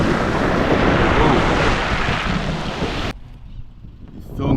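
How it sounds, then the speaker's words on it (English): Ocean surf at Port Royal, Jamaica, a loud rushing wash of waves mixed with strong wind noise on the microphone, which cuts off sharply after about three seconds into a much quieter background. "These are the real surfing type of waves"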